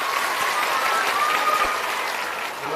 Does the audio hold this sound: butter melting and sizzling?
no